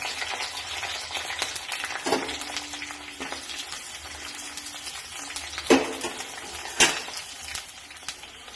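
Ginger, garlic and green chillies frying in a pan for a fish curry, a soft steady sizzle with a few sharp clinks and scrapes of a spoon against the pan.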